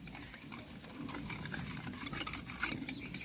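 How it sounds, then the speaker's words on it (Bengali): Roasted mango sherbet ingredients with ground cumin, coriander and dried chili being whisked together, a quick continuous rattling beat of close stirring. "এবারে সবটা জিনিসকে আমি একসঙ্গে ফেটিয়ে নেব"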